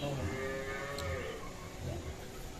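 A crossbred bull lows at a livestock market in Dinajpur, with a deep, drawn-out moo rising over steady background crowd and farm noise.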